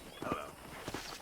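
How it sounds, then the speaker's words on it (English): Horse hooves walking at a ranch in the Red Dead Redemption video game, a few soft, uneven clip-clop steps, faint and close, with a sharper knock at the end. "let's see if you can still ride a horse"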